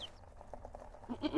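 A voice imitates a goat bleating, a soft, wavering bleat that swells toward the end of the short clip against a faint, quiet background.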